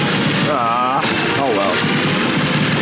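Rapid arcade gunfire and explosions from the overhead shooting game Aero Fighters, dense and loud over a constant engine drone with layered game effects.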